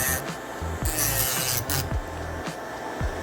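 An electric nail drill files a fingernail up close, a harsh rasping buzz with repeated short strokes and brief pauses, continuous and fairly loud with no talking.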